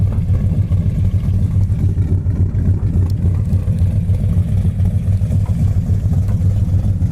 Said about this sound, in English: You can hear just a little bit of an exhaust rattle to it.